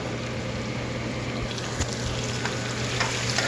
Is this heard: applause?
no